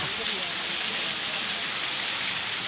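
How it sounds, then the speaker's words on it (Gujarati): A heavy downpour falls on a village market street and lane, making a dense, steady, unbroken hiss of rain that stays loud and close throughout. "આ જો વરસાદ પડી રહ્યો છે"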